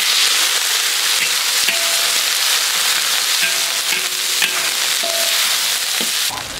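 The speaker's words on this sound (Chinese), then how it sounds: "我们先炒辣椒，锅中加油" Chili peppers stir-fried in hot oil in a wok give a loud, steady sizzle and crackle, with occasional scrapes and clinks of the spatula against the pan.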